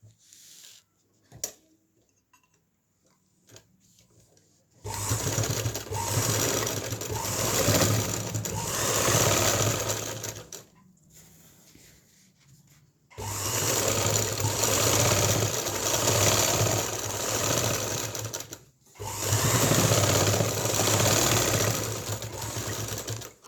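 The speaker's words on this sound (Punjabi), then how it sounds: "ਹੁਣ ਅਸੀਂ ਇੱਥੇ ਫਾਈਨਲ ਸਲਾਈ ਲਾਵਾਂਗੇ ਜਿਹੜੀ ਬਿਲਕੁਲ ਕਿਨਾਰੇ ਤੇ ਲਾਵਾਂਗੇ" Sewing machine stitching the final edge seam on a salwar cuff, running in three long steady whirring bursts with brief quiet pauses and a few clicks between them, close and loud with no voices.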